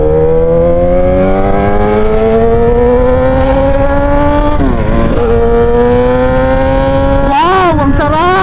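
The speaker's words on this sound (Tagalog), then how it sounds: "So first time natin magagamit itong ating motor dito sa expressway." Motorcycle entering an expressway, its engine climbing steadily in pitch as it accelerates, loud and close under heavy wind rush, with a brief gear change midway and another surge near the end.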